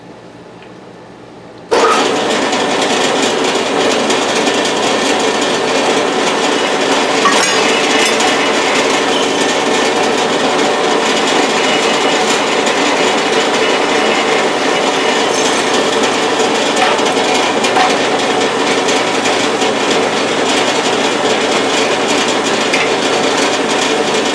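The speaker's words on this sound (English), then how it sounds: "Now I need holes for the screws so that when I put her together, everything will fit right." A power drill boring screw holes into wooden drawers runs as one loud, continuous whine after a brief quiet start, holding steady close to the listener for over twenty seconds.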